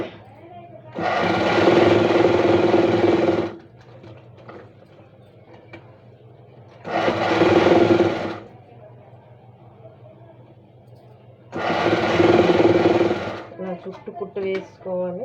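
Sewing machine stitching a blouse lining in three loud, steady runs of rapid mechanical whirring, each a couple of seconds long, separated by quiet pauses with low background hum and small clicks.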